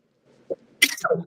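A single short sneeze, sudden and close, preceded by a small sharp intake of breath.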